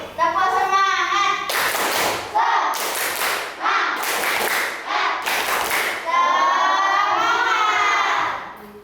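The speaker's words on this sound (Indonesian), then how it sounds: "Tepuk semangat." Schoolchildren in a classroom perform a rhythmic spirit clap, four loud bursts of unison clapping in a steady pattern, with children's chanting voices before and after.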